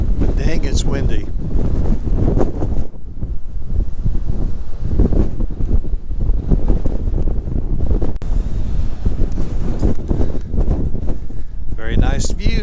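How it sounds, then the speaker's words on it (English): Strong wind buffets the microphone at a mountain overlook on a motorcycle trip, a loud, continuous roar with gusty surges, and a person talks over it at the start and end. "it's windy"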